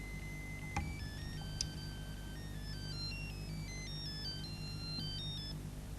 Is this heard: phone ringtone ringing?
yes